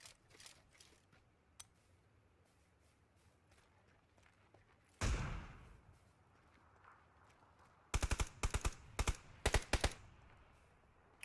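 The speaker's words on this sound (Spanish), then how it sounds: "Escucho tiros acá." Gunfire in the PUBG battle royale video game: a loud close burst of shots, then a rapid series of sharp cracks in clusters toward the end, over quiet game ambience with faint distant pops.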